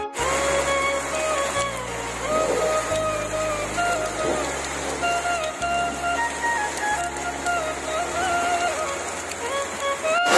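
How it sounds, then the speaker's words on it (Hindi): Unseasonal rain falls outside a village house, a steady hiss with scattered drips. Faint tones and a low hum run underneath throughout. "अभी हम वीडियो बनाने के लिए ही निकल रहे थे तो बारिश शुरू हो गया"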